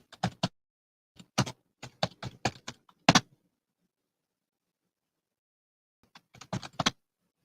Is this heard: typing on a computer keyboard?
yes